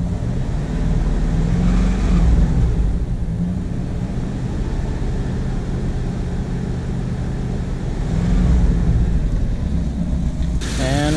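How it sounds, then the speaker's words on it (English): A Chevy C10 pickup with a battery that will not charge, its engine running steadily and loud up close, with the roar swelling as it is revved, then easing back and swelling again. "I'll just rev it. Now this would be as if you were taking off and driving."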